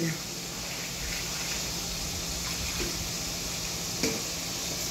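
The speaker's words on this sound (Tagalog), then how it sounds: "Okay, konting tubig." Water is poured into spaghetti sauce in a cooking pot, a steady hissing trickle that runs continuously at moderate level while a person talks over it.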